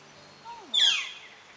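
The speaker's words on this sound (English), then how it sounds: "The birds are singing." A bird gives a couple of soft rising chirps followed by one brighter, louder call outdoors on a morning in a cottage garden, set against a quiet background.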